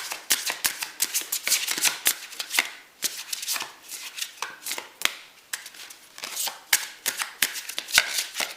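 Tarot or oracle cards being shuffled during a spiritual guidance reading, a close, crisp riffling and flicking that comes in rapid bursts with short pauses, continuing throughout with no talk.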